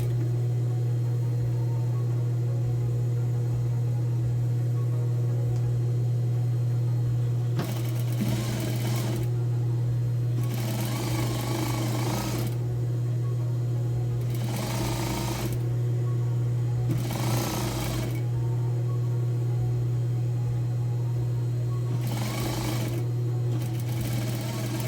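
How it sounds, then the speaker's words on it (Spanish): A sewing machine stitches a dress collar seam at 5 mm on a women's shirt dress. It runs in about five short bursts separated by pauses, over a steady low hum. "voy a coser a 5 milímetros"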